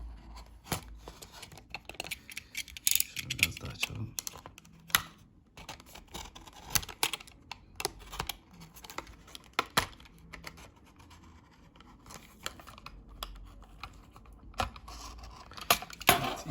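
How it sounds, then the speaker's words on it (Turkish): A Hot Wheels Premium toy car package, holding a Mitsubishi 3000 GT VR4 model, is cut open: quiet, irregular snips, crinkles and plastic clicks of the packaging, close by and faint, with no talking. "Hemen şöyle kesip açalım"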